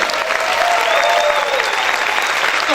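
A church congregation claps loudly and continuously, with faint voices or instrument tones rising above the steady roar of applause.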